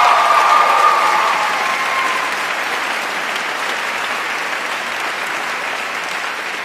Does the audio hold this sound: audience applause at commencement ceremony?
yes